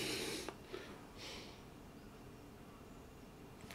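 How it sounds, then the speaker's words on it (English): Sniffing at a glass of Boddington's Strong Ale with a thick creamy head: a couple of short, close nasal inhalations at the start, then quiet room hiss. "Let's get a wee sniff on it."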